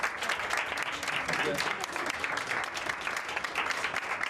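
Singapore Airlines hostesses applaud the drivers at a 2016 Singapore TCR touring car round, a steady, dense clapping that lasts throughout while a commentator talks over it.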